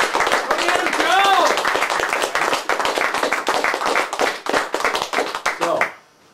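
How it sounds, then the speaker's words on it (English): An audience claps and cheers loudly at a speech. The applause is dense and sustained for about six seconds before fading quickly. "And I'd like to applaud all of you."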